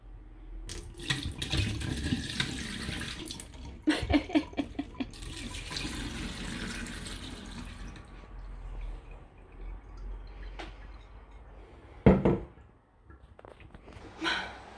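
Zero-alcohol wine pours in splashy, gurgling bursts with brief pauses, followed by a few drips and a clatter near the end.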